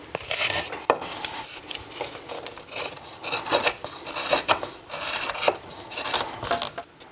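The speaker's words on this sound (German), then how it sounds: "Jetzt nehme ich mir den Boden und fange mit einem Schnitzer an, grob das Holz bis zu unserer Markierung wegzuarbeiten." Carving knife roughly cutting wood from a violin back plate, a series of close, irregular scraping and shaving strokes of varying loudness, with no talk.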